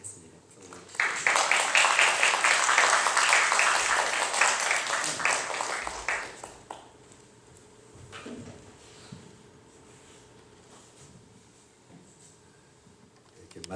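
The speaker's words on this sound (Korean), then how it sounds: "우리 코너스톤의 따뜻한 박수로 환영을 드리게 하겠습니다" A church congregation claps to welcome a visiting pastor, a dense, warm applause that lasts several seconds before it fades into room noise and faint shuffling.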